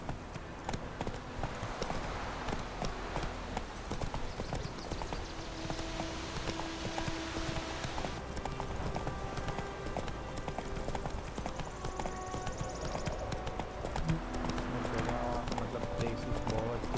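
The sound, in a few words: horse Roach galloping in video game The Witcher 3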